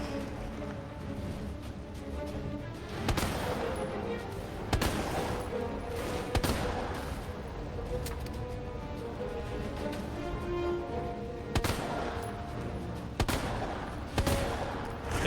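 Gunfire in Resident Evil 2 Remake, rapid automatic bursts and sharp single shots over a constant backdrop of game music and ambience, moderately loud throughout.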